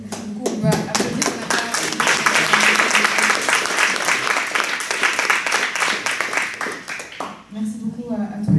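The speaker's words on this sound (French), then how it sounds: "Du coup, on va applaudir." Audience clapping at a law conference on citizen experimentation, starting with a few sharp individual claps that build into dense applause, then thinning out into scattered claps before a brief pickup at the end.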